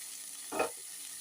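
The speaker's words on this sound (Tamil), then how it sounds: "வெங்காயம் நல்லா வதங்கிடுச்சு அது ஃப்ரை போது வேறு இன்னும் கொஞ்சம் வதங்கிடும்" A steady, soft sizzling hiss of onions frying in a pan, with a brief stirring scrape near the middle.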